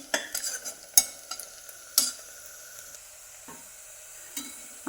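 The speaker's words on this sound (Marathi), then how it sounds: "असं सारखं हलवत राहायचं मग कांदा एक एक कडेला जात नाही" Onions frying in a pan for a simple khichdi rice dish, a soft sizzle under sharp, irregular scrapes and knocks of a spoon stirring close by.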